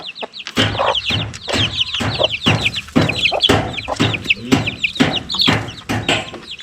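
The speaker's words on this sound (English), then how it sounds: "Baby chicken." Chickens cluck in a rapid, busy run of short calls close by, the sound repeating steadily over several seconds with no talking.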